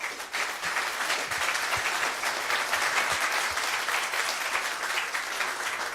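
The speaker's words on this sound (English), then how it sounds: "How about a round of applause for them?" An audience applauds a panel at the close of a conference discussion on patents, standards and innovation. The clapping is loud and sustained, with no voices over it.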